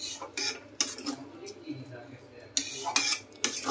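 Gravy ladled onto futka in a dish at a Ranchi street food stall, metal ladle clinking and scraping against the vessel in several sharp knocks, close, with faint talk in the background.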